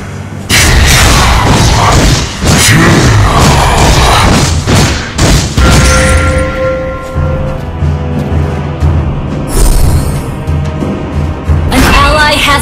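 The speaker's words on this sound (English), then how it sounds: "Our turret has been destroyed." A turret is destroyed in the Mobile Legends video game with heavy booming thumps and crashing blasts, followed by ringing tones and game announcer voices amid continuing battle effects.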